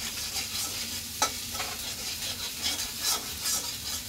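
Noodles cooked with egg, potato, onion, chili and spices, stirred in a hot pan. A continuous close sizzle runs throughout, broken by repeated scraping and clinking strokes of a spatula against the pan.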